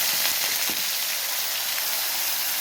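Ground onion paste frying in a pan for a bottle gourd kofta curry, giving a steady, close hiss of sizzling throughout, with a few soft stirring scrapes near the start.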